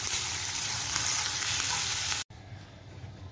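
Hot oil with onion hisses and sizzles loudly and evenly in a kadhai for pav bhaji. A sudden brief cut is followed by quieter frying.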